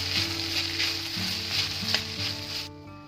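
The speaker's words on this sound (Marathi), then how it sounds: "दोन चमचे एवढं शेंगदाण्याचं कूट आहे तर हेही व्यवस्थित मिक्स करून घेऊया" A beetroot stir-fry with crushed peanuts sizzles loudly and continuously in a pan while being stirred, with faint steady tones underneath and no voices.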